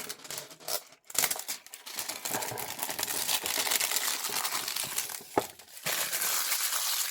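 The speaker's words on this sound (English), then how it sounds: "that sound, right, of the cellophane being torn off and tossed into the bin" A cellophane wrapper crinkles and tears off for several seconds in a dense, continuous rustle, with a few sharper crackles. It sounds close and fairly soft, with no talking.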